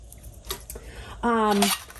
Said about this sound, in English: Here is a pastry blender again. This one it's a dough blender